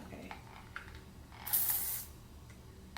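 A hair spray bottle lets out a single short hissing burst, up close, against a quiet, faintly noisy room.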